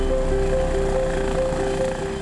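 A steady, loud helicopter drone with a throbbing rotor hum and engine whine, continuous throughout with no voices.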